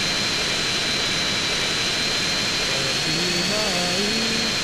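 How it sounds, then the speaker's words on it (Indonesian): Jet engine roar from a jet chasing the player in GTA San Andreas, a steady broad whine held throughout at moderate level with a faint rising tonal sweep near the end. "Ada jet ngejar gua, guys."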